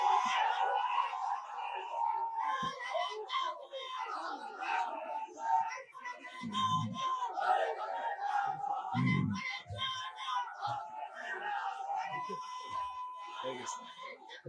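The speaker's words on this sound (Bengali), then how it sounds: "তাকবীর দিয়ে শয়তানকে তাড়ান, জোরে সোরে তাকবীর দেন।" A crowd at an Islamic sermon loudly chants takbir in a dense, sustained roar of many voices, with swelling shouts rising and falling throughout.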